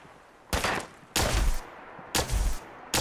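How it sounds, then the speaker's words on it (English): Plasma pistol shots from Fallout 4 ring out in four distinct bursts, each a sharp bright blast with a booming low tail, spaced unevenly and loud against a quiet background. "Alright, I'm using a plasma pistol."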